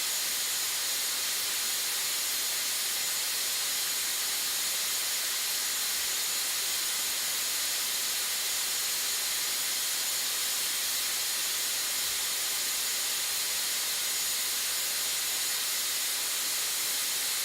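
A SmartPRV pressure relief valve, its stem clamped open with locking pliers, vents flow as a steady, loud, unbroken high-pitched hiss that holds constant for the whole stretch with no voices.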